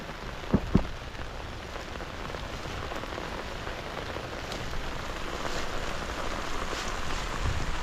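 Steady rain patters on a surface with a constant hiss, a couple of louder drips near the start, continuing evenly throughout.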